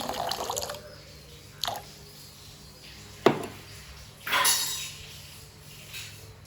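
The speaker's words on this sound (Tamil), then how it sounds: "தேவையான அளவு தண்ணியை ஊற்றிக்கொள்வோம்" Water is poured over sugar in a pan for coconut burfi, in a few short splashy bursts separated by quiet dripping. The sound is close and moderately loud, with no talking.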